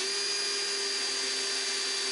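An electric drill strains against a metal bar, giving a steady close whine with a high tonal edge held throughout, with no talk.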